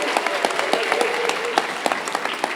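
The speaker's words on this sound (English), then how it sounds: "Let's give another round of applause for Hood Car Care and Friends of Equip" An audience at a school graduation ceremony claps steadily in a dense, sustained round of applause, filling the hall evenly from start to finish.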